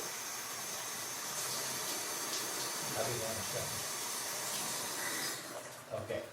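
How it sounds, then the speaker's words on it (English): A steady hiss of water running from a faucet fills the background, with faint voices murmuring quietly beneath it. "as soon as he shuts off the faucet here"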